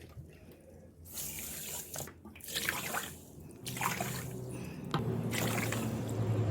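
Water is poured into a pot for rasgulla sugar syrup in several splashing bursts, the stream rising in pitch as the vessel fills, heard close with short gaps between pours.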